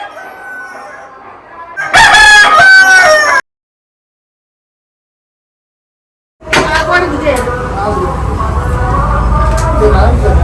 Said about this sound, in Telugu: మా కోడి పుంజు చూడు ఎట్లుంది